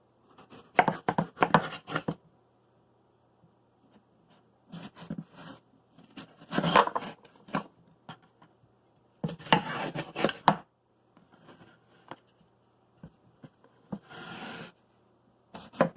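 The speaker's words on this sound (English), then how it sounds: "I'm going to cut each of those halves into pieces" A knife slices a halved cantaloupe into wedges on a cutting surface, giving close, irregular bursts of cutting and thudding with brief quiet gaps between the strokes.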